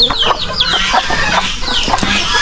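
On a small farm, a cluster of chickens clucks near at hand, with quick, choppy calls and a few higher squawks piling over one another in a short burst.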